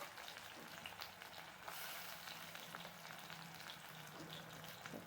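Tomato frying in a pan, a faint, even hiss of sizzling oil with no voice, steady and distant throughout.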